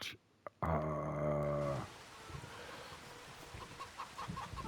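A single loud rooster-like crow rings out briefly in the video game Farming Simulator 25, followed by softer scattered clucking of chickens and low background noise.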